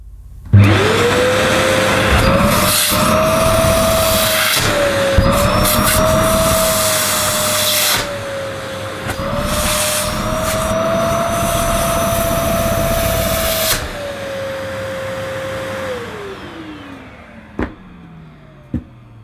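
A Nilco S12 commercial tub-style vacuum cleaner runs loud and close: its motor spins up to a steady, whining roar with slight pitch wobbles, then winds down in a falling whine, followed by a couple of sharp knocks.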